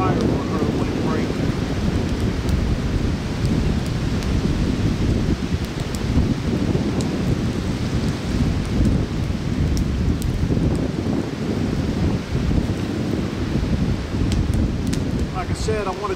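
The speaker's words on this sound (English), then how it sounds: "man, it's windier than living hell" Strong wind roars outdoors at a lean-to shelter on a super windy day, a loud, constant broadband rush with gusting swells and rustling throughout, with no clear talk over it.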